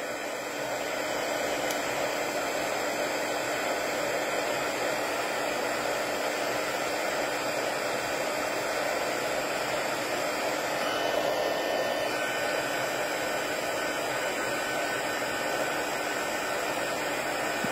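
A heat tool blows hot air over embossing powder on a stamped card, a steady loud whooshing hum that runs unbroken and close for the whole stretch, with no talk.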